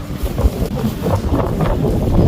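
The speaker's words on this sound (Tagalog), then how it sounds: "Malakas ang hangin eh." Strong wind roars steadily against the microphone, a loud rumbling buffeting that never lets up.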